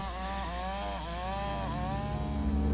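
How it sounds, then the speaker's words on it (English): Chainsaws cutting through thick trees in a lush Alaskan forest, a sustained engine whine with rising and falling pitch as the saw bites, loud and steady throughout. "Chainsaws cutting swaths across the thick trees for pulp."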